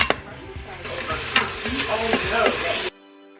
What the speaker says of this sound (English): I'm going to saute that all together.